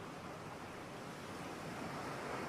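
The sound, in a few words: ocean waves coming into shore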